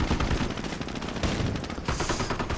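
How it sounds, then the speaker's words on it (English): Dense gunfire from a WWII strategy video game battle, with rapid overlapping shots and bursts that sound like machine guns, kept up loud and continuous for the whole stretch. "firing from the broadside, getting the most guns against these Grenadiers"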